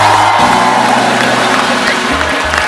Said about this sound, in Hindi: जोरदार तालियों से स्वागत होना चाहिए।